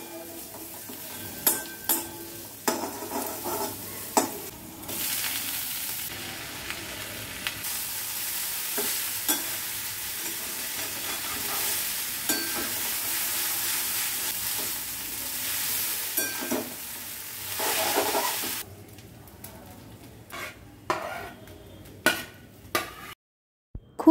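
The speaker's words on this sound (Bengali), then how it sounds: "ডিমের একটু ঝুড়ি ভেজে নিই" An egg sizzles in a pan as it fries for egg chow. A steady, close frying hiss runs throughout, broken by frequent sharp scrapes and clinks of a utensil stirring. Nobody speaks.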